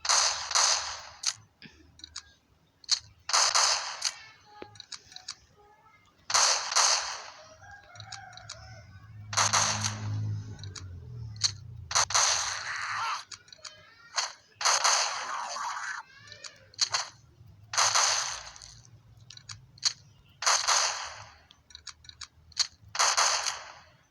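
Shotgun blasts in a zombie shooting video game, fired in quick pairs, a dozen or more sharp loud reports spread across the stretch with brief gaps between volleys and faint talk underneath.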